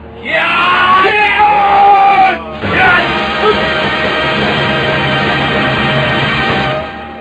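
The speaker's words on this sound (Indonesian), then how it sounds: "Lembu Sora dan Ranggalawe yang berpakaian menyamar sebagai putri kerajaan melompat sambil berteriak menyergap" Warriors in a radio drama burst out shouting and yelling all at once as they leap into an ambush, a loud massed cry that breaks off briefly and surges again before fading.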